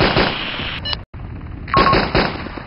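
Sustained suppressive gunfire in a war video game, dense rapid shots that cut out briefly, then resume loud and continuous.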